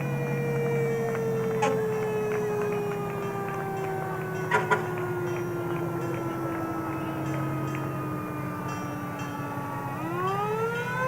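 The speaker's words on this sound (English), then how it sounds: "Fire engine from Epping, New Hampshire." A fire engine, Ladder 1 from Epping, New Hampshire, rolls past in a Wilmington, Massachusetts anniversary parade, its siren wailing in long descending and rising sweeps over steady engine rumble, with a couple of brief sharp clanks.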